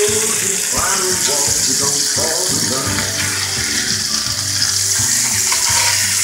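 Deer meat frying in grease in a pan, a steady close crackling sizzle with spatula scrapes and stirring knocks as the meat is moved around, plus faint talk in the background.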